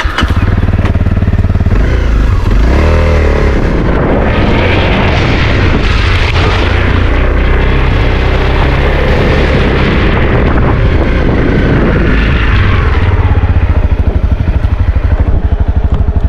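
Dirt bike on a Cornwall trail putting its front wheel over a step, its engine revving loud and close in rough bursts with popping and clattering throughout.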